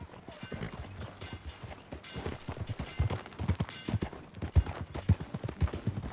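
Steady clip-clop of horse hooves at a trotting rhythm in Red Dead Redemption 2, continuous and fairly close, with a faint background ambience and no talking.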